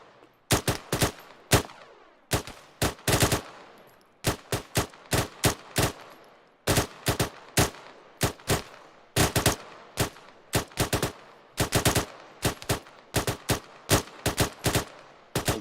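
Bursts of rapid rifle fire in the Arma 3 military shooter during arctic training, loud sharp cracks in quick clusters with brief gaps between volleys, no talking.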